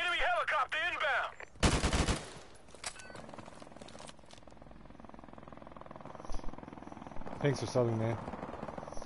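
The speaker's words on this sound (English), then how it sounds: "Enemy helicopter inbound" An enemy helicopter in Call of Duty Modern Warfare, played on PS4 Pro, whirs beneath bursts of in-game gunfire. A voice talks over the top.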